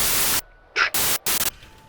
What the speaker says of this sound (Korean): 치지직하는 잡음이 심해져